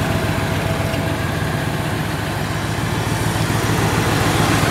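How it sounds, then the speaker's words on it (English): Engine of a 1997 Mercury Grand Marquis idling, a steady, even low hum with a faint rhythmic throb that holds nearby without change or voices. "Motor runs good."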